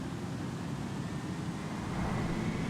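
An electric car in Forza Horizon 4 accelerates with a steady, loud, futuristic whirring hum and a faint rising whine over a constant low rumble, with no voices.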